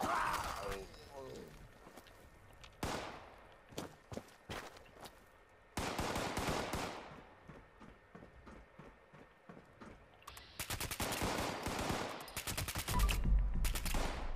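Automatic rifle fire in Fallout 76, a modded fast-firing commando weapon with a quick mag, in several rapid bursts of cracking shots separated by short gaps, loud and close with game effects between.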